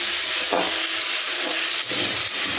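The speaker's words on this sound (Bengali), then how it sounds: "আদার পেঁয়াজটা মোটামুটি ভাজা ভাজা হয়েছে" Oil sizzles steadily in a pan as ginger and onion fry for a taro dish, with occasional stirring scrapes over the constant hiss.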